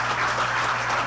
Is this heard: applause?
yes